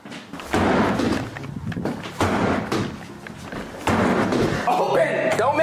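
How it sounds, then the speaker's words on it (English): Heavy thuds and slams strike a house bathroom door three times, each impact loud and close, with shouting voices in between. "Aaron, I'll kick through the door."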